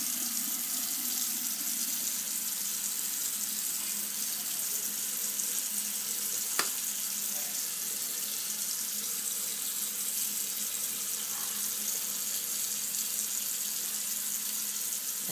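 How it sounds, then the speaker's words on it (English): Steady wet scrubbing and rinsing of an Xbox 360 game disc under running water at a sink, a continuous close hiss with one brief sharp click partway through and no talking. "We're gonna scrub it for a long time"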